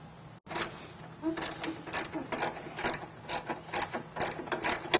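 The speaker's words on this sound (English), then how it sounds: "Go ahead and remove those nuts now. They require an 18 millimeter socket to do so." A hand ratchet fitted with an 18 mm socket clicks in rapid, regular strokes while removing bumper mounting nuts on a Jeep frame, crisp and close.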